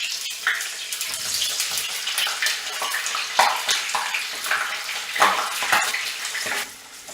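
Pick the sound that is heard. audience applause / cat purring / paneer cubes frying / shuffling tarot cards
paneer cubes frying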